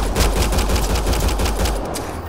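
Sustained automatic gunfire in the Mass Effect Andromeda video game, a loud, close, rapid stream of shots with a heavy low thump that cuts off abruptly near the end.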